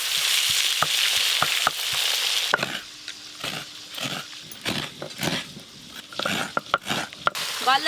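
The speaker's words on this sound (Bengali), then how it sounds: "গলদা চিংড়ি মাছ বেশ ভালো করে ভাজা হয়ে গেছে" Giant freshwater lobster prawns fry in hot oil, a bright sizzle that dominates at first and then thins out, broken by sharp clacks and taps from a utensil stirring and turning them in the pan.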